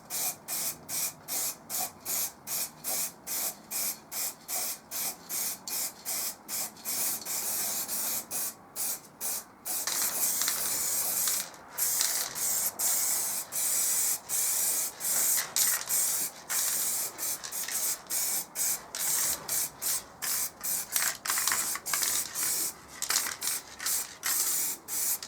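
A second coat of spray paint goes onto a wheel in a garage, rapid bursts of aerosol hiss in quick regular pulses, then longer sustained sprays with short pauses, close and fairly loud, with no one speaking.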